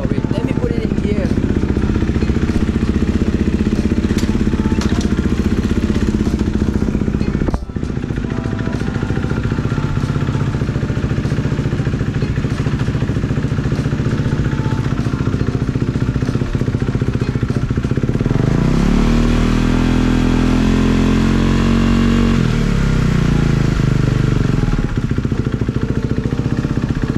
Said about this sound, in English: So let's just start it up and see how the wheels look when it's rotating.